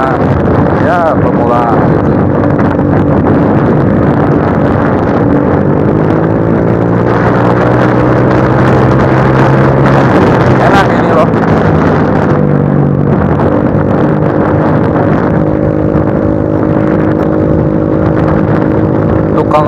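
A standard motorcycle fitted with a cheap aftermarket exhaust rumbles steadily up close. Its pitch climbs and falls in a rev near the middle, under a constant blustery wind-like hiss.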